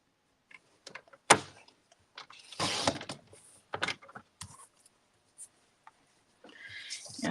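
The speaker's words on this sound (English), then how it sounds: "So let me go ahead and trim this at the 4." A paper trimmer blade slices through cardstock for a paper crafting kit, giving a short sharp rasping cut followed by a longer sliding swipe and a few light taps and clicks, close and fairly quiet with no talking.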